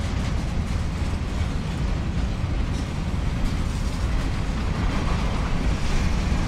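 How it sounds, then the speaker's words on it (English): CSX Q561 freight train rolling past, a loud, continuous low rumble with steady broadband roar and no clear horn or voices, holding at constant strength throughout. "Passing the CSX Q561 that's on the move."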